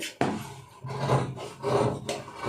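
Scissors slice roughly through blouse fabric in a few short, close rasping strokes with brief pauses between cuts.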